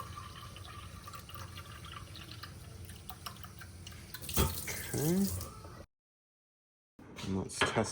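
Kitchen faucet running under a sink fitted with a reverse osmosis filter, a steady close hiss of flowing tap water that ends abruptly, followed by a brief silence and a faint return of sound, with a voice speaking partway through.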